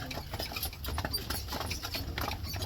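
Hooves of Amish buggy horses, a pinto and a Percheron, patter in a quick, even rhythm on the road in Bird-in-Hand, Pennsylvania, accompanied by steady low rumble and occasional voices in the background.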